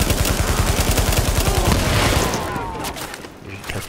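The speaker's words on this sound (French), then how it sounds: "La tour elle a explosé." An explosion in a first-person shooter game, with dense rapid bursts that sound like gunfire or blasts at the start and loud, continuous chaotic noise that fades slightly toward the end.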